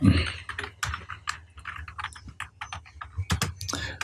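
A computer keyboard clatters as HTML code is typed, with quick, uneven keystroke bursts and short pauses, recorded close and clear.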